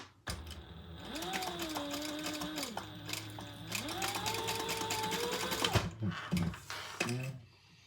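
A sewing machine stitches a short quarter-inch seam on a key fob wallet, its motor whirring in two steady runs with a brief pause between, then stopping, followed by a few clicks and handling sounds.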